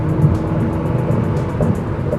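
Steady, loud engine drone with a deep rumbling roar, sustained without pause as a Dodge Caliber SRT-4 pulls hard toward 100 mph; no voices.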